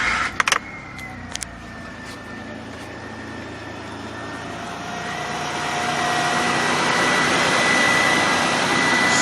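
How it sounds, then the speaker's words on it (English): A cold Nissan VG33E V6 engine starts with a brief cranking burst, then settles into a steady idle with a faint whine, the running noise swelling slightly louder partway through. "So we want to start the engine and listen for that noise again."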